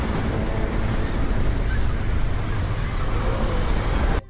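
Tsunami waves in a film scene make a loud, continuous roar of rushing water and surf that fills the whole stretch and cuts off abruptly at the end.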